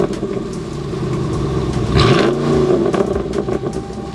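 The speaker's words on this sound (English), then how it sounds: "Love that exhaust. The 392 absolutely screams with that." A 392 V8 Jeep Wrangler Rubicon fitted with a Borla Attack Series exhaust revs loudly up close, a steady rumble that swells into a sharp rising rev midway, then settles back into a raw idle drone.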